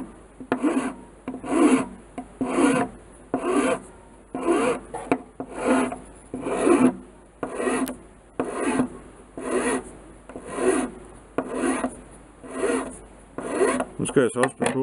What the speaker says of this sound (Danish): nu vil jeg prøve at tage sådan en rimelig fin fil her